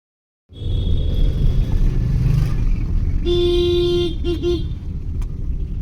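A car drives along with a loud, steady low engine and road rumble close by, while a horn gives a sustained toot followed by two short toots partway through.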